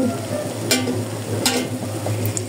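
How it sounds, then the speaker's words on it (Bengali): Chocolate donuts frying in hot oil, a steady close sizzle with a few sharp clinks or stirring taps cutting through. "তো এভাবে আপনারা ভেজে নেবেন।"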